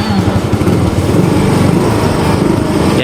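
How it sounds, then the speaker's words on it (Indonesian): A Yamaha Soul GTX 125 scooter engine runs at a steady, loud, close idle, with rapid, even putt-putt pulses and a buzzy exhaust note throughout. "Coba kita nyalakan mesinnya."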